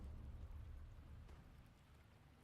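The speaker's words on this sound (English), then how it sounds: "Yeah, it's raining." Steady rainfall in the fantasy online game Guild Wars 2, a soft continuous patter with low rumbling underneath, even and unbroken throughout.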